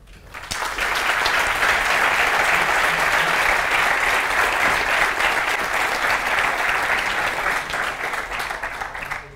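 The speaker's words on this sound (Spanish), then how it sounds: "realmente el aplauso que se necesitan es para ellos." Sustained audience applause at the T3chFest 2017 tech conference in a hall, a dense, loud wash of many hands clapping that stays steady for around nine seconds before easing slightly at the end.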